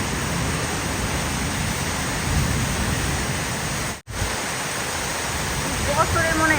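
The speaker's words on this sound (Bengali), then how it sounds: "কি জোরে দেখুন ঝড় বৃষ্টি হচ্ছে।" Heavy storm rain pours down in a steady, dense roar close by, broken by one brief gap, with faint voices near the end.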